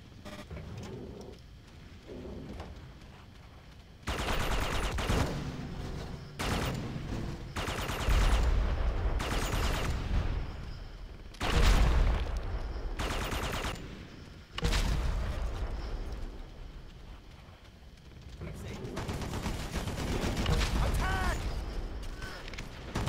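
Gunfire and grenade blasts in the video game Red Faction 2, bursts of shooting and heavy explosions coming in loud stretches separated by quieter gaps, with mechanical game noise between them.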